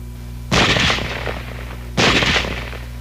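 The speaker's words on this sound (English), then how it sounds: "Now let's look at weapons which have both automatic fire and semi-automatic fire." Two short bursts of gunfire from a weapon capable of both automatic and semi-automatic fire, each a loud, close rattle lasting about half a second, separated by a pause, with no talking.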